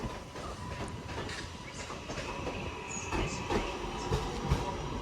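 Northern Class 323 electric unit 323 210 at Manchester Piccadilly station, heard as a faint, steady rail rumble with light wheel clatter and a few soft clicks.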